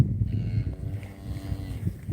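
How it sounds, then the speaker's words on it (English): Cattle moo on a ranch during a roundup, with a drawn-out low bovine call over a noisy outdoor background of shuffling livestock. "Baker helps with the cows"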